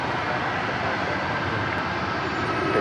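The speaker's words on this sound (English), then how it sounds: "This is the Dreamliner coming in from Miami, Florida. It's a 787-8 Dreamliner." A Boeing 787-8 Dreamliner airliner arriving at LAX on its approach from Miami, heard as a steady, broad jet roar that holds constant and loud throughout the short stretch, with no talk over it.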